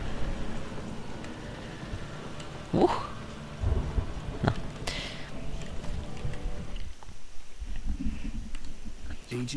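Thunder rolls and rumbles through a rainy storm in the Alan Wake video game, with a sharp crack near the middle and steady rain beneath, while someone talks over parts of it.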